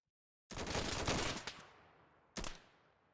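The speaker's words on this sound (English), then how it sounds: "All forces, take aim. Ready. Fire." Volley of gunfire in a video game: a dense crackling burst of many shots fired together, fading out, then a single sharper report about two seconds later, without voices.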